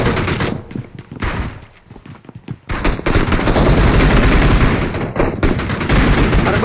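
Gunfire crackles in loud, rapid bursts, with a quieter gap in the middle before dense firing resumes and continues to the end.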